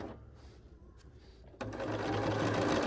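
A sewing machine stitching quilt blocks, starting up midway and running in a steady, fast, close whir that continues to the end.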